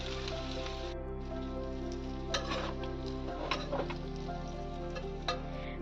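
Pointed gourd and parwal slices sizzle steadily in a pan of hot oil, a constant close hiss with occasional louder spits over a low background hum; no one speaks.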